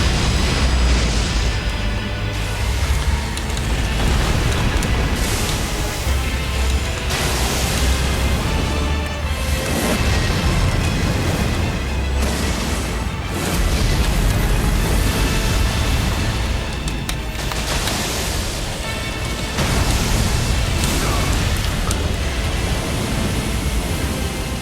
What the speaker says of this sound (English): We're just, everything's gonna explode now.